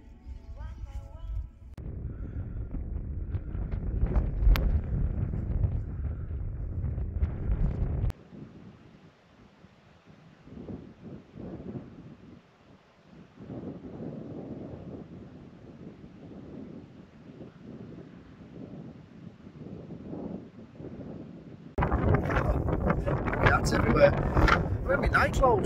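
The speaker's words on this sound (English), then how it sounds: "Wind's picked up, but it kind of gusts right in." Wind gusts buffet the microphone in strong rumbling bursts at a wild camp on Grey Crag, easing to a quieter rustle in the middle before surging loudly again.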